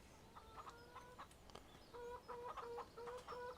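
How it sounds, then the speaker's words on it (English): Chickens in Farming Simulator 17 cluck in short repeated bursts, a steady stream of game-farm poultry calls with a brief louder squawk, close and clear with no talk over them. "So we all hear our chickens."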